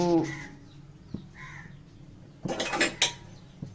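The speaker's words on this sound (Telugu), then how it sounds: "గిన్నె పెట్టుకొని" A cooking pot set down on a lit stove in a home kitchen, a few clattering metallic knocks and scrapes close by, with a brief voice at the start.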